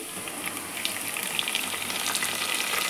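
Spice paste ground with mint leaves and kasuri methi hits hot oil for a tomato bath tempering, giving a steady, close, loud sizzle and crackle that holds for the whole stretch with no voices.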